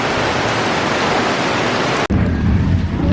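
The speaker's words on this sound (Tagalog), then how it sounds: "Lakas ng ulan. Kumukulog pa at kumikidlat." Heavy rain pours in a garden during a thunderstorm, a loud dense wash of noise that cuts off abruptly partway through, then resumes as a rougher, lower roar; no distinct thunder crack stands out.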